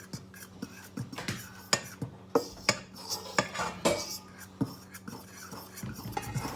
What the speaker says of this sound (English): Can you just mix that up with the fork a little bit